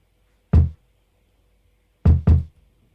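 A punchy kick drum sample programmed in FL Studio for a hip-hop beat strikes once, then twice in quick succession after a pause. The hits are short, dry and booming, with nothing else heard.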